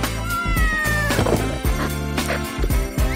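A cat meows repeatedly and loudly up close, drawn-out cries one after another with brief gaps and a few knocks in the background.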